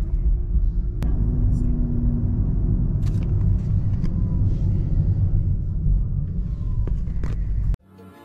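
Steady interior rumble of a car driving around the block in Las Vegas, continuous engine and road noise with a few faint clicks, ending abruptly in a quieter moment.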